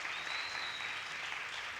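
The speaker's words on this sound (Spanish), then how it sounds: "Un fuerte aplauso para ellas" A church congress audience applauds loudly and continuously, a dense, even wash of clapping throughout with no voices on top.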